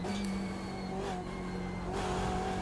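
BMW M8 race car engine in iRacing at Road America, a steady droning engine tone with sustained harmonics and faint tire noise, continuous and moderately loud with no talking.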